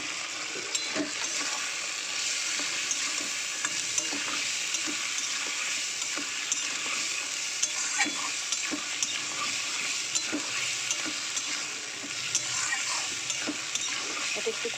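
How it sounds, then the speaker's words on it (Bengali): A banana flower curry with dried chilli, turmeric and salt is stir-fried in a pan: a continuous soft sizzle under repeated scraping and tapping of a spoon against the pan, close by, with no speech. "এটা একটু কষাবো ভালো করে"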